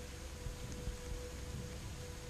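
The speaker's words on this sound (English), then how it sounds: "it's raining" Steady rain falls outdoors on Quaker Hill, a dense, even hiss that holds without a break from start to finish, with no voices present.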